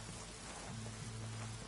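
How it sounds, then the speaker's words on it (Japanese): Heavy rain in the video game Ghost Recon Wildlands hisses as a dense, steady wash with a low hum beneath it, filling the whole short stretch without talk. "雨の音強いからか"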